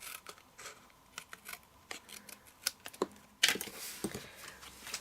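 Scissors snip through paper along a pencil line in a craft project, close crisp cuts in an irregular run of short snips, quiet and without talk.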